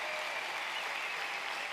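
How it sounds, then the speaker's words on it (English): Audience applause in a conference setting, a dense steady wash of many hands clapping, fairly close and continuous throughout. "could you please give a nice round of applause for Michelle and her team putting that together?"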